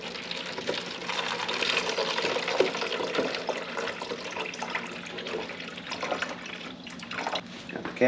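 Coolant drains out of a Beta 200RR dirt bike radiator as a steady trickle and drip into a container, running continuously and fairly quietly with faint background noise.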